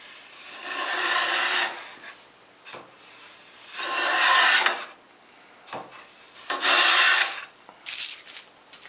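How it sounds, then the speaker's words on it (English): A hand plane is pushed over two boards being trued for a spring joint, making long rasping shaves in repeated passes about two seconds each, close and clear with pauses between strokes and no talk. "What I want to do is keep planing until I see a continuous curl come from both pieces of wood."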